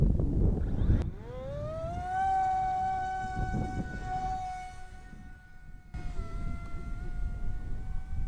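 Micro Skyhunter 787mm FPV racing plane on a 4S battery screams away after launch, its motor whine rising sharply in pitch, then holding a loud steady tone that shifts as it flies past in the wind.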